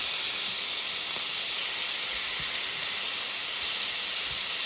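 Marinated meat searing in a hot wok gives a steady, close hiss that holds evenly throughout, without a break.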